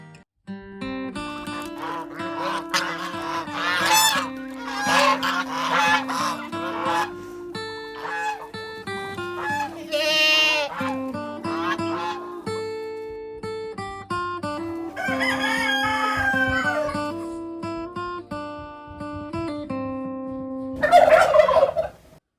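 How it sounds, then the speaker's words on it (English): Cuckoo Marans chickens on a homestead give drawn-out, tonal crowing and gobbling calls, one after another, close and fairly loud, ending with a sharp, raucous burst. "Cuckoo Marans are part of the Marans group of chickens."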